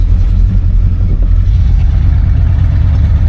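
A 1971 Oldsmobile Cutlass with a 350 engine accelerates, a steady loud low-frequency engine drone and exhaust rumble held close throughout, with no talk over it.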